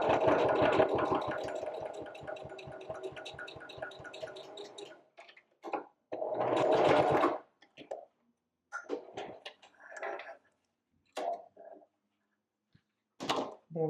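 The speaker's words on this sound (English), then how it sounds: "now we're just going to do a nice top stitch all the way along this edge." Sewing machine top-stitching along the edge of a fabric wallet in bright yellow thread on blue, a rapid rhythmic whir for several seconds, followed by quieter scattered clicks and handling noises.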